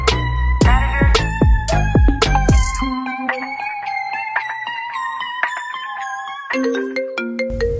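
A loud electronic phone ringtone plays a bright melodic tune of stepped tones, close and clear, with no talking.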